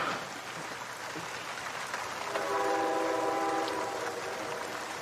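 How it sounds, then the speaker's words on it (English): Train passing at a distance with a steady rumble, a long horn blast sounding in the middle and fading out, heard alone with no talk. "there is something very melancholy about the sound of a train"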